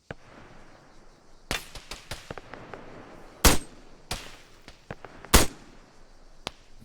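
Gunfire in Arma 3: several sharp, single rifle shots spaced irregularly, a couple notably louder and closer, with faint clicks and low background ambience between them and no talk.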